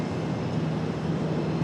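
Engine roar from an Embraer ERJ regional jet at Charlotte airport, a steady low rumble heard from a distance with no voices over it.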